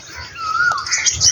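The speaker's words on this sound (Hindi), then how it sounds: "कोयल भी बोल रही है।" An Asian koel calls in a village among mango trees, a clear rising whistled note carried over quiet outdoor ambience with faint chirps from other birds, no talking.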